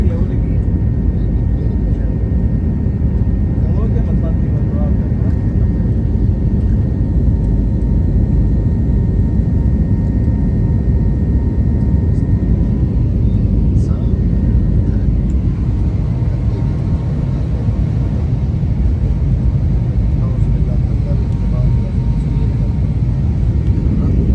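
Cabin of a passenger jet in flight from Europe to Pakistan, a loud steady engine roar and airflow rumble throughout, with faint talk under it.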